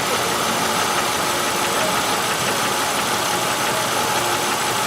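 A car engine idling with a constant misfire on cylinder 5 from a stuck fuel injector, giving a steady close mechanical hum with an uneven knocking undertone throughout, no voices.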